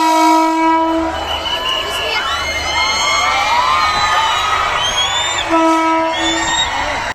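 A train horn blasts long and loud, then the rumble and squealing screech of a train pulling into Janakpur Dham railway station in Nepal, with the horn sounding again near the end.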